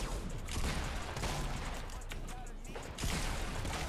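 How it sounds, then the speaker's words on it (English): A heavy shotgun booms repeatedly in a jetpack shooter video game, heavy blasts over a dense, noisy wash of battle sounds and explosions that stays loud throughout. "Heavy shotgun!"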